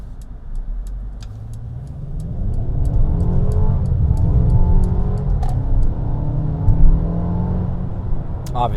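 A 2021 Mercedes-Benz GLA 250 accelerating hard on winter tires at night, heard from inside the cabin, its engine rising through gears in a steady, swelling drone, with a faint rhythmic ticking above it.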